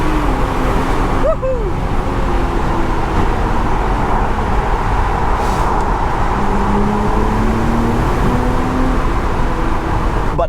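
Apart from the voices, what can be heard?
BMW Z4 M40i engine sound driving through a tunnel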